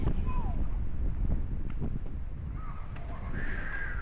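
Steady low wind rumble buffets the microphone throughout, with faint bird calls and distant voices behind it, outdoors near cottages in Daguioman, Abra, Philippines.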